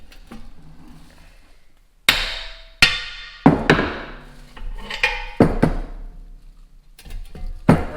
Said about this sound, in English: But I don't care about this thing, so I'm gonna give it a whack.